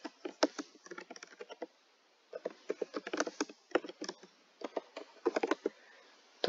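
Quick, uneven bursts of key clicks from a computer keyboard as C++ code is typed, close and fairly quiet, in three clusters with short pauses.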